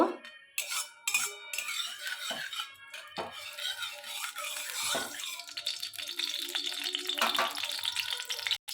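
Oil heats in a kadai for a crab dish, giving a soft, fairly faint sizzle after a few sharp metallic clanks and scrapes of utensils against the pan at the start.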